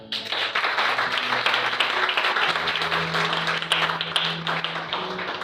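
Church congregation applauding during a sermon, a dense, sustained round of clapping from many hands filling the room at moderate volume, with faint background voices underneath.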